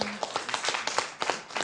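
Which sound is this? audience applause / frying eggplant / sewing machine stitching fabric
audience applause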